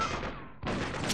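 A shotgun fires in the video game Freedom Fighters, one loud, close, broadband blast cutting in sharply after a brief dip, with game noise filling the rest.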